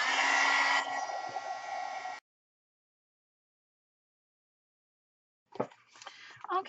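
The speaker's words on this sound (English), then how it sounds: "let me grab my heating tool, which is this one from Martha Stewart" A Martha Stewart heat tool for heat embossing blows a loud, steady whooshing roar for about two seconds, then cuts out into silence before a voice begins speaking.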